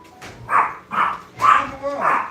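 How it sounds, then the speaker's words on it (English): A dog barks four times in an evenly spaced series, loud and close indoors, with a faint whimper between barks; no words are spoken between them. "What you barking at?"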